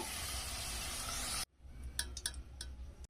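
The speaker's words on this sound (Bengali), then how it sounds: "আলুটা ভালো করে আমি ভেজে নেবো।" Potatoes fry in oil in a pan with a loud, steady hiss for over a second, then the sizzle stops and a few light clinks of a utensil against the pan follow, close by.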